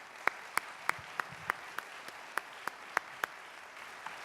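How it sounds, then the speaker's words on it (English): Audience applause for a panel at a forum, heard as sparse, evenly spaced sharp claps, roughly three per second, quiet and steady like only a few hands clapping. "Can we give them a big round of applause"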